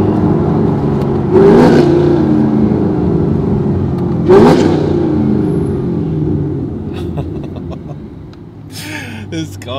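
Inside a Chevrolet Camaro ZL1 upgraded to 750HP, the engine rumbles loudly and swells into revs as the car accelerates, easing off toward the end, with people talking over the noise.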